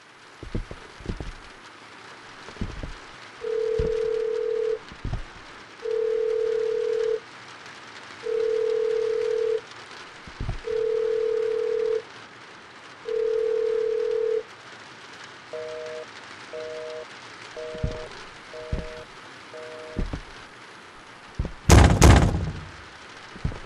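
A telephone rings repeatedly in the horror game In the Facade We Trust: five long evenly spaced tones, then a faster series of short double beeps, with dull thuds between and a loud burst near the end.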